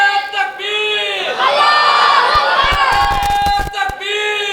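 A large crowd at a religious gathering roars a loud, sustained chant in unison, shouting a slogan in answer to a takbeer call; the swelling, layered voices fill the space, with bursts of clapping or shouting toward the end.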